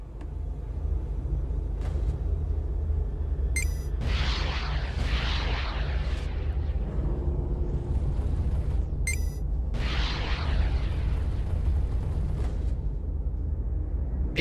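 Missiles detonate in the space-combat game Everspace, several heavy booms and bursts over a constant low engine rumble, with bright crackling flares at a few points and a steady rolling roar in between.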